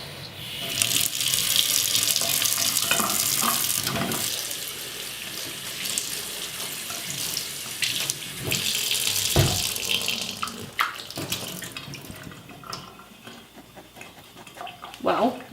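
Cold water runs steadily from a tap over a fabric tote bag, a continuous broadband splashing with rubbing and handling noises shifting through it.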